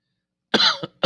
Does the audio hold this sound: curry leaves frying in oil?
no